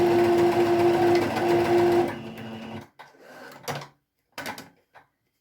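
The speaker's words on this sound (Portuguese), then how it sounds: "vou passar uma costura com meio pé de malha" A sewing machine runs steadily for about two seconds, joining two fabric layers right sides together with a half-foot-width seam for a wallet strap, then stops, followed by a few short handling clatters.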